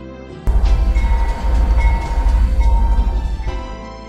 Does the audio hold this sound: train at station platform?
yes